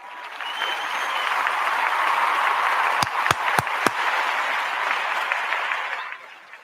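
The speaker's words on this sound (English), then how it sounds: "A clap to everybody." An audience claps continuously for several seconds as an evening program closes, a steady wash of applause with a few sharp, distinct claps standing out near the middle before it fades.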